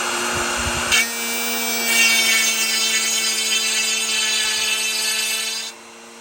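A Pantorouter router bit cuts a dovetail joint in 3/4-inch-thick eastern white pine, a loud, steady high-pitched whine that rises into a harsher cutting rasp as the bit engages the wood, then eases back to the motor hum.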